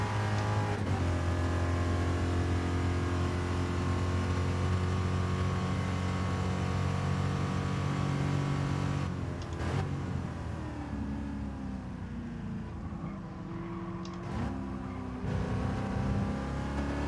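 A race car engine in the video game GT Sport roars steadily at high revs, loud and close, with shifting pitch as it accelerates and changes gear, no voices present.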